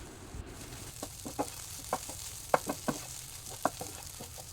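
A spoon stirs a garam masala bread mixture in a pan with light sizzling underneath, producing soft irregular scrapes and taps against the metal, quiet and close.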